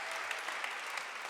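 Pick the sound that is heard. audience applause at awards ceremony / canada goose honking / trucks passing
audience applause at awards ceremony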